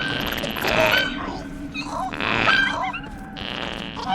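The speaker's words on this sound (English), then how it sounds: "if you're a fan of fart noises, let me tell you, this is the game for you" Squelchy, wet fart-like noises burst in three short clusters from Journey to the Savage Planet, fairly close and loud, each lasting under a second.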